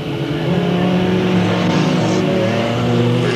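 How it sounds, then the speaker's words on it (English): Race cars roar around the oval at Delta Speedway, a steady loud engine drone with layered revving as the pack runs close together, no voices over it. "Virginia Patterson races out into the lead."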